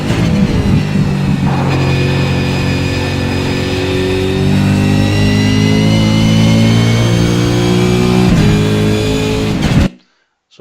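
A racing car engine in a racing game at Bathurst revs hard and climbs steadily, holding a loud close drone with an upshift partway through, then cuts off abruptly at the end.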